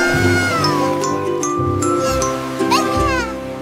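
A cartoonish meowing cat sounds in a French children's nursery song, with a couple of sliding meows over tinkling music and a sung melody, fairly loud and close.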